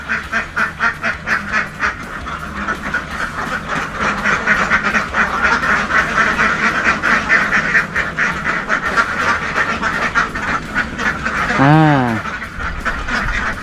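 Laying ducks on a farm quacking steadily in a rapid chorus throughout, close and loud, with someone talking over them.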